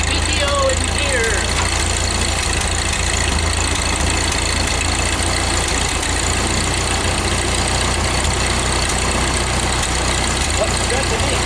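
A Ford 2N/9N tractor engine idles steadily with the PTO engaged, a constant loud low rumble running continuously without change throughout.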